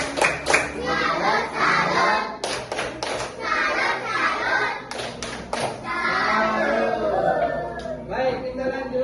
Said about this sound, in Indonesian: Mari kita berikan dulu tepuk salut.